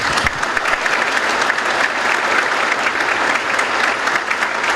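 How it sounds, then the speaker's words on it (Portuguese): A crowd at a Rotary gathering breaks into full, vigorous applause, an unbroken wash of many hands clapping close and loud from start to finish. "eu acho que todos nós aqui merecemos uma salva de palmas"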